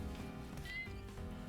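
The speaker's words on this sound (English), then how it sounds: "Shush, cat." A cat meows close by in a single drawn-out, whiny call lasting under a second, set against a low background hum.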